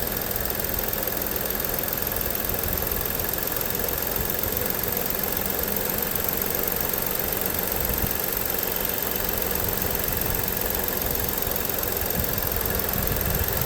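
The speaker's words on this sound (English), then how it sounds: "Like that you get to actually hear the actual engine." A 2017 Ford Explorer Police Utility SUV idles steadily, a constant low engine rumble with a faint rhythmic knock, heard alone at close range with no talking.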